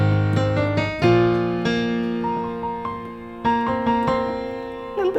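Solo piano playing the second line of a beginner piece, with a clear melody over sustained bass notes and steady, moderately paced struck notes that ring out close and alone.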